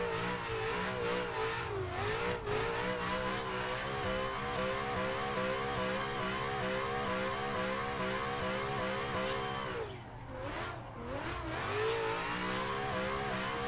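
A car engine in the Assetto Corsa racing game, drifting under hand controls, holds a steady high rev with throttle swells and a brief dip near the end, continuous and close.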